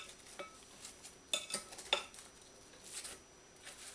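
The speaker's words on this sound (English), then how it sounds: "I'm going to get my wooden spoon there and I'm going to mix it up" A wooden spoon mixes apple pieces with sugar and flour in a bowl, giving faint, sparse scrapes and a few light clicks against a quiet background.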